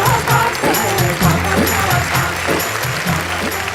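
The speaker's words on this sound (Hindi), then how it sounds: "जोरदार तालियां संगीता सरल।" An audience at a Hindi comic poetry stage show bursts into loud applause for poet Sangeeta Saral, a dense wash of clapping with music and voices mixed underneath, close and energetic throughout.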